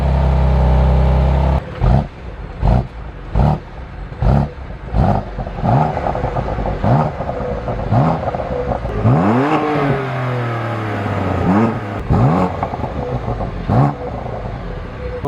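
A BMW M2 CS engine with a loud aftermarket exhaust revs repeatedly in sharp bursts, then sweeps up and down through several rising revs, close and aggressive.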